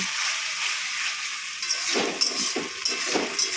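Potatoes sauté with ginger paste in a pan, a soft bright sizzle with a few scraping stirs near the end, close and moderately loud, no talking.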